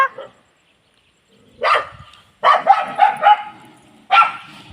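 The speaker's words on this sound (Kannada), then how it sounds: "ಅಲ್ಲಿ ಕರಿನ ಹತ್ರ ನಾಯಿ ಹೋಗ್ತಾ ಇದೆ ಅಂತ ಇವನ್ ಜಗಳ ಆಡ್ತಾ ಇರೋದು" A dog barks in several bursts, a lone yelp, then a quick run of rapid barks and one more after a pause, nearby and loud.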